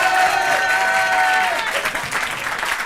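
Studio audience at a French TV talent show applauds steadily and loudly, a dense wash of clapping that eases slightly toward the end, with faint tonal music or voices underneath.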